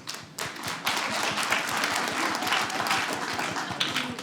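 Light, scattered clapping from a small stand-up comedy audience, soft pitter-patter applause that starts after a brief pause and continues evenly.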